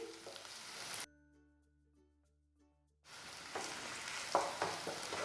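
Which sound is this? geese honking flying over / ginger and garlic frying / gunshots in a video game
ginger and garlic frying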